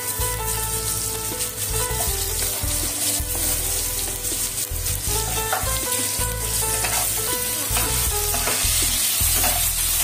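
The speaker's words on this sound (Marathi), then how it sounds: "हा कच्चा बटाटा आहे, तो आता आपण फ्राय करूया।" Raw potato frying in a pan sends up a loud, constant sizzle close by, with repeated scraping and knocking as the pieces are stirred.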